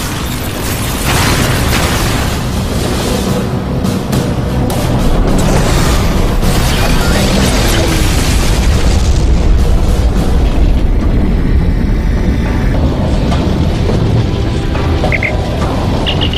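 Loud, continuous barrage of explosive booms and crashing blasts from torpedoes striking targets in a sci-fi space battle, dense and rumbling throughout with no pauses.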